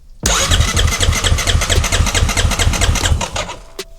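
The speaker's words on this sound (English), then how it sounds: "we're gonna hold the throttle wide open and we're gonna crank" A 2021 Kawasaki KX450 motorcycle engine cranking with the throttle held wide open, a loud, close, rapid mechanical chugging that runs steadily for several seconds before cutting off abruptly.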